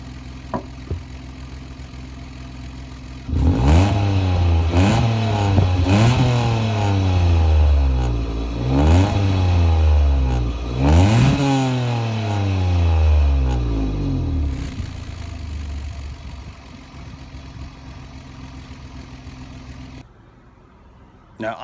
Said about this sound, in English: I'll rev it a little bit just to show you the exhaust leak I'm talking about.